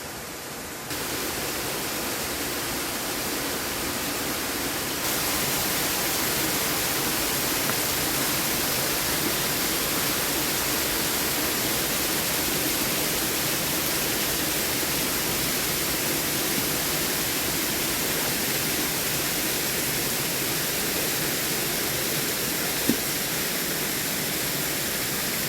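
A waterfall roars in steady, broadband rushing, loud and unbroken throughout with no voices on top.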